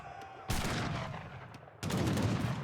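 Two heavy bursts of ship broadside cannon fire in Age of Empires 3, a frigate volley hitting heavy cannons, each a loud crashing blast that decays before the next.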